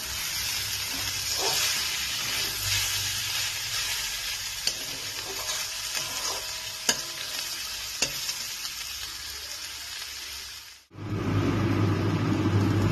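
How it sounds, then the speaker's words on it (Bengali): Steady crackling sizzle of snake gourd and grated coconut frying in a pan, with occasional stirring clicks, continuous and close; a brief pause near the end before the sizzle resumes. "এই চিচিঙ্গেটাকে নারকেলের সাথে আমি কিছু সময় ধরে ভেজে নেব, একটু লাল লাল করে ভাজা হবে।"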